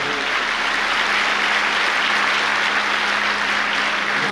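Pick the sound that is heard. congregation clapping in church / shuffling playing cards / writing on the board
congregation clapping in church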